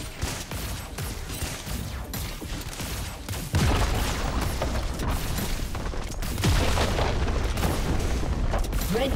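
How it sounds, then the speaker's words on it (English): A turret collapses in League of Legends with a heavy in-game boom and crackling blasts that swell louder partway through and carry on in dense, continuous rumbling bursts. "Red team's turret has been destroyed."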